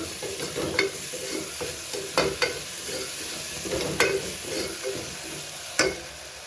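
Paneer pulao ingredients with ginger-garlic paste being stirred in a hot pan, a utensil scraping and knocking at irregular intervals over a steady oily sizzle, close and fairly quiet with no voices.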